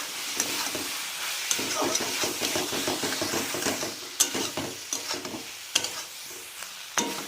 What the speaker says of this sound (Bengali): আবারও ভালো করে কষাবো